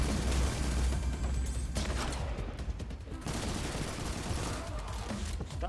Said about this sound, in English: Stop shooting at me with that damn sniper rifle